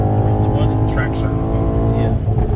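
A Mercedes E63S AMG Stage 2 powers off with wheel spin, its loud engine droning close and steady as the tires scrabble for traction, while people talk over it.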